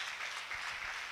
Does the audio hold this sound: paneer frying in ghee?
no